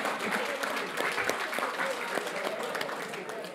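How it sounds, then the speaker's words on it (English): An audience applauds at an Aboriginal honour roll induction ceremony, steady clapping from a gathered crowd lasting a few seconds, with a voice faintly present beneath it. "A big round of applause, please,"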